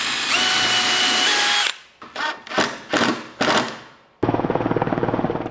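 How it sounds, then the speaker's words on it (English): A power drill driving screws into wood for a van bed frame whines in a long steady burst, then several short stop-start pulses, followed by another steady run, loud and close. "Here I'm gluing and screwing the bottom piece of the back half."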